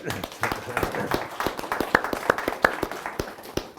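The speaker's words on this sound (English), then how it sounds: "Round of applause, please." Audience applause after a talk on housing: a scattered, uneven patter of hand claps from a modest crowd, close and fairly steady for a few seconds with some louder individual claps standing out.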